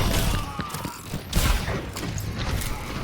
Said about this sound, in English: that was a nice nade, nice follow-up damage